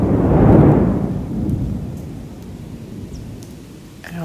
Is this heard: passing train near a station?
no